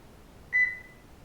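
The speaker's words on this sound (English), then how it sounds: "That's the beep it does to tell you you're not interesting" A single short electronic beep from a SimuCube 2 Pro direct drive sim racing wheel base, a faint clean steady tone lasting about a quarter second in an otherwise quiet room.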